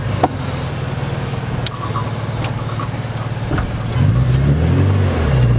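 Turbocharged Scion FRS starting to accelerate, a steady idle-like engine drone that rises in pitch and grows louder near the end as the revs climb, heard alone and close.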